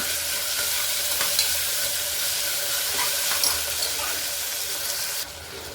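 Chopped tomato stirred into sautéed onion and ginger-garlic paste in a pan for a beetroot kootu, giving a steady close sizzle and hiss with scraping stirs throughout, easing off at the very end.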